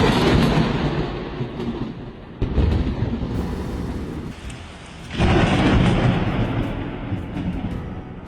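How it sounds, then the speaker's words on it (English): Heavy thunder from lightning striking a tree, a deep continuous rumble with loud crashes near the start and a fresh surge midway, over steady pouring rain. "Lightning slammed into the tree like a bomb, sending shock waves through the air."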